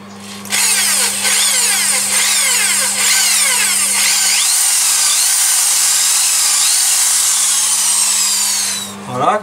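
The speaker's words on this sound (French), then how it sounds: "je vais percer au milieu du trou à 6 mm de façon à pouvoir placer ma pièce" Power drill boring a 6 mm hole through the centre of a turned walnut lamp piece, a loud, steady whine held for about nine seconds with the pitch wavering as the bit cuts.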